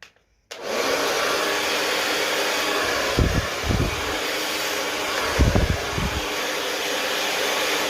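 A hair dryer blow-drying hair at the roots runs as a steady, loud, close airy roar for the whole stretch after a sudden start, with a few soft low bumps as it moves.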